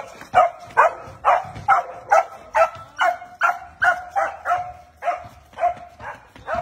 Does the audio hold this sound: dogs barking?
yes